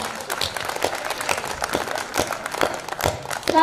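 Audience applause at a Hindi poetry gathering, kavi sammelan, a steady crowd clapping for several seconds that swells louder at the end.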